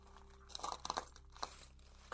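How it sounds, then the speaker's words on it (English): Crunchy footsteps in the horror video game Radio Signal, a few rough crunching steps spread irregularly across a quiet, low hum, fairly close, with a louder burst at the very end. "Your footsteps sound rough."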